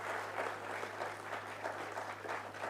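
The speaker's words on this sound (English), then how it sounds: "Kindly give our speakers a huge round of applause" Audience applause for speakers at a conference session on work culture, a full, steady round of clapping from a crowd over a low constant electrical hum, with no voices on top.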